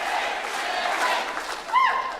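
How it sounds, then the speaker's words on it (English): Election night crowd chanting and cheering for a winning candidate, a steady massed roar of many voices at moderate distance, with a brief rising shout near the end. "just soaking up the applause he is at the moment. A wave to the crowd. The crowd chanting for him."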